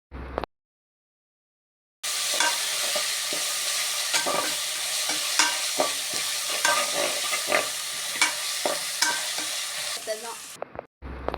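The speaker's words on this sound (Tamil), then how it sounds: "இஞ்சி பூண்டு பேஸ்ட்டோட பச்சை வாசனை போகிற வரைக்கும் நல்லா வதக்கி விட்டுட்டு" Ginger garlic paste and slit green chillies sautéing in hot oil for a beef biryani, a steady sizzle broken by repeated scraping stirs, after a short silent gap at the start.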